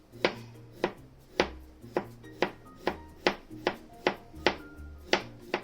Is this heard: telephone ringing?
no